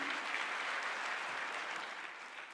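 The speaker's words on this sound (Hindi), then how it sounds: "विजय पांडे के लिए तालियां" Steady applause from a large audience at a youth conference and exhibition in Lucknow, a dense, even wash of clapping that fades slightly toward the end, with no talk over it.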